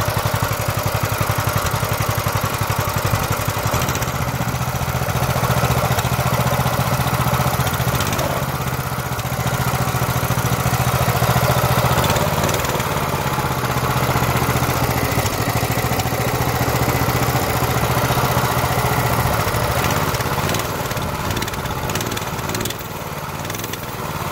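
A Coleman minibike's small engine idles steadily at close range, a constant buzzing putter with a low rumble. The tone holds even from start to finish.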